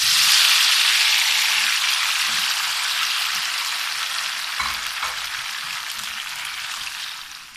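Chopped tomatoes fry in a pan for a tomato chutney, making a loud, steady broadband sizzle close up that eases slightly over time, with a faint stir or clink near the middle and no voices.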